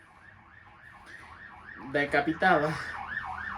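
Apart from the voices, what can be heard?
ambulance siren passing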